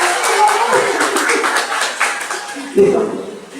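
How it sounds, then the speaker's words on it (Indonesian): An audience at an early-childhood parenting seminar claps hands together in a close, lively patter, mixed with speaking voices throughout. "Tepuk tangan lah."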